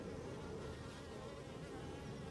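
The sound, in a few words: honey bees buzzing in a hive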